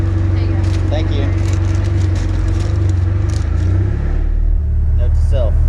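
A Vanderhall car idling with a low, steady engine rumble as it pulls away from a drive-thru, with people talking over it.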